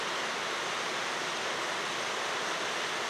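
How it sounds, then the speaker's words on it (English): A waterfall in western Massachusetts roars as a steady, loud wash of broadband rushing water, unbroken and even throughout, with no voices. "A number of wild running streams and waterfalls can be found in western Massachusetts."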